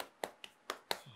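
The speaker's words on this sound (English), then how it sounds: "Hire yourself a whole team to just clap when you're done." Hands clap four times at an uneven pace, each a sharp, quiet smack standing alone with no talk.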